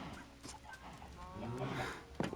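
Chickens clucking in the video game Minecraft, a few short clucks over a steady low background hum at moderate volume.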